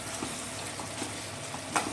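Veg pasta with soy sauce being stirred in a frying pan, a soft steady sizzle with faint scraping of the spoon, quiet and close, no voices.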